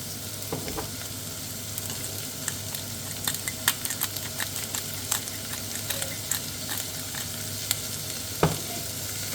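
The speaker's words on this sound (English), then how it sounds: "I'm just going to sweat these onions down. Try not to burn the garlic." Onions and garlic sweat in a pan for potato and leek soup, a soft steady sizzle close by with frequent light clicks and scrapes of stirring, no talking.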